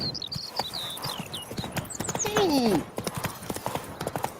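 Horse hooves galloping in the Witcher 3 video game, a fast steady clip-clop rhythm running throughout, close and fairly loud, with bird calls, a brief whinny and a voice over it.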